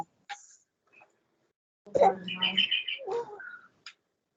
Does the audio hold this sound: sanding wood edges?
no